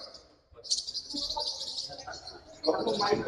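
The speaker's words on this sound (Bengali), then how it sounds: "এটা আরেকটা ক্রিমিনো পাখি" Forpus parrotlets at a bird exhibition give faint, high, thin chirps in a quick string, with a voice speaking softly near the end.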